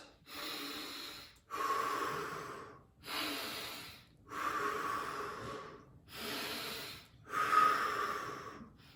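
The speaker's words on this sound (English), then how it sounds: "5 deep breaths" Deep breathing during an IT band stretch, about six slow, even inhale-exhale cycles close to the mic, each breath a loud airy rush with brief pauses between.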